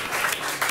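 Students at a Norwegian secondary school clap for a new couple, a short, loud burst of group applause up close, dense and continuous for under a second.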